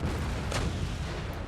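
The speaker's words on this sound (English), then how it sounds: "Cannons roaring to life," Massed cannons in Empire: Total War boom in a continuous heavy rumble, with a sharper single report standing out briefly amid a dense battlefield roar.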